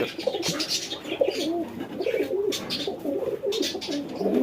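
An aggressive male pigeon collected from Bangladesh coos in rolling, throaty phrases close by, with faint chirps and rustling around it.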